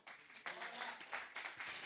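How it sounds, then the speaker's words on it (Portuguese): A church congregation claps together in applause, a brief, dense burst of many hands swelling in waves, moderately distant and fairly soft. "dê uma palmas para o Senhor"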